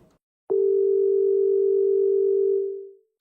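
A steady telephone dial tone sounds alone as a call is placed, starting abruptly with a click and holding loud and unbroken for about two and a half seconds before fading out.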